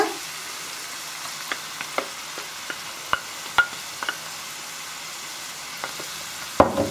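Sautéed mushrooms with cream added sizzle softly in a pan for a broccoli pasta sauce, while a spoon stirs with scattered sharp taps and scrapes against the pan, ending in a louder clatter.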